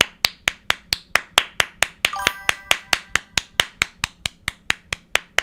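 Steady, evenly paced hand clapping, about four crisp claps per second, close and loud, continuing without pause for the whole stretch.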